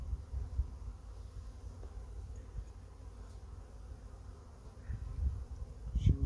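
Bees buzzing around an opened beehive outdoors, a low steady hum that stays close and constant, with a few louder passes near the end.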